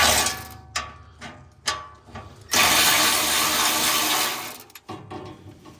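Ratchet working on bolts under a BMW Z4 E85, with a few quick clicking bursts followed by a longer, loud continuous mechanical rasp up close, then more short clicks.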